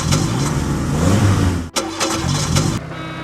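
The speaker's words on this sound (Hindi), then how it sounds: "उसकी गाड़ी के साइलेंसर से बहुत तेज आवाज निकलती है।" A motorcycle fitted with a big modified silencer roars loudly and steadily up close, cutting out for an instant before the throaty exhaust blares again.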